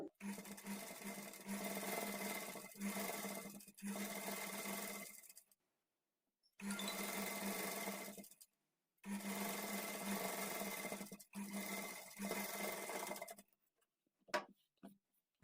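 A sewing machine stitches fabric along a lining for invisible piping, running in several loud bursts of steady mechanical whirring separated by short pauses, with a few faint clicks near the end.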